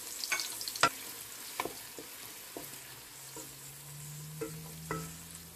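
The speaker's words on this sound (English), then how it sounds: "I'll fry the onions" Chopped onions fry in oil in a pot, a soft continuous sizzle broken by spoon scrapes and taps against the pot at irregular intervals.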